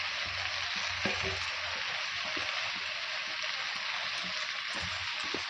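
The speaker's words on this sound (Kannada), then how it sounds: "ಆಲೂಗಡ್ಡೆ ಬೇಯಿಸಿ ಕಿವುಚಿಟ್ಕೊಂಡಿದ್ದೆ, ಅದನ್ನಷ್ಟು ಹಾಕ್ತಾಯಿದ್ದೀನಿ." Mashed boiled potatoes frying with onions in a pan for masala dosa filling, a steady close hiss and sizzle with occasional scraping stirs throughout.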